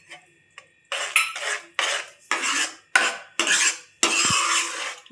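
Thickened mango pulp with lemon juice is stirred in a pan over low gas for a homemade mango fruit drink: about eight rhythmic scraping strokes of a spoon against the metal, close and distinct, with no speech.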